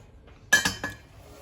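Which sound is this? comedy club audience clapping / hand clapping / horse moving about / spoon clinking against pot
spoon clinking against pot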